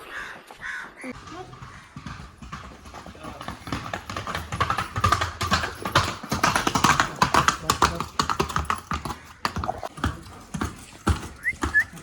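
Rhythmic hoof clops of a trotting horse come close and fairly loud, mixed with people talking and outdoor noise.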